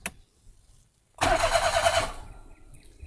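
A Daihatsu Move L9 RS 660cc turbo starts from a push button: a brief click, a short silence, then a cranking whir that catches and settles into a close, steady idle.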